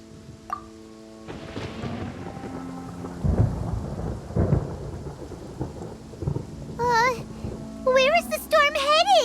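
Rumbling thunder rolls through a Genshin Impact storm scene with steady rain, loud and close, while a child-like voice and other game voices speak over it and bright chiming effects ring near the end.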